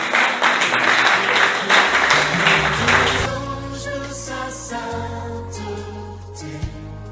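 Church congregation applauding and cheering loudly for a few seconds, then the crowd noise gives way to worship music with sustained tones carrying on.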